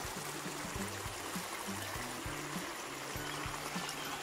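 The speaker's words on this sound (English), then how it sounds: "Because raining, so much water is coming down." Rainwater flows down on a farm in the Philippines, a constant rushing, trickling wash at moderate level, with a faint rhythmic low thumping underneath.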